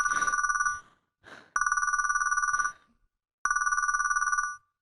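An old-style telephone bell rings in three long bursts separated by short pauses, bright and fairly close, with no talking.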